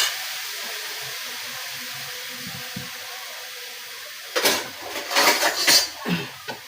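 A spoon scrapes cooked greens from a big pot into a small one, giving a burst of close metallic scraping and clatter after a stretch of faint steamy hiss.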